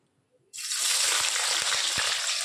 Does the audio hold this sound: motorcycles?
no